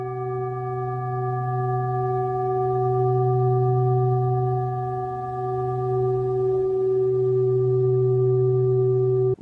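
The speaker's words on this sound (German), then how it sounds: "Die Schale klingt lang, der Klang dringt ein, löst auf und befreit." A singing bowl ringing with a loud, sustained, pure tone and steady overtones that hold for about nine seconds, gently pulsing in volume before stopping abruptly.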